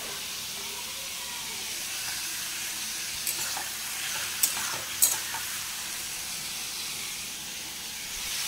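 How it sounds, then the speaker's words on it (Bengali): Potatoes frying in a pan on a home kitchen stove, giving a steady soft sizzle with a few brief clinks of stirring near the middle and no voices. "এখন 1:30 বাজে, আলু ভাজা বসিয়ে দিয়েছি।"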